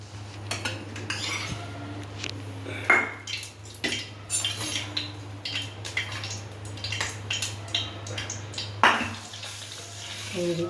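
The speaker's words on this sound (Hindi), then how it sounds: "आटा हमारा अच्छे से भून जाएगा" Flour roasting in ghee in a pan for dhaniya panjiri, a dry-fruit prasad sweet, with a spoon clinking and scraping against the metal at intervals over a steady low hum, and a faint soft sizzle underneath.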